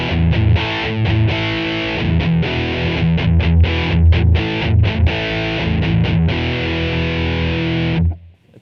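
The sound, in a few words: distorted electric guitar through Line 6 Floor Pod Plus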